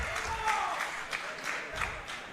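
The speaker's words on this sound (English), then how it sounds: "The crowd getting behind Wilder here tonight." A women's wrestling event crowd cheers for Ezabella Wilder, a steady roar with scattered clapping and shouts held at even volume through the short moment.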